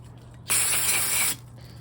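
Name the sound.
aerosol cleaner spraying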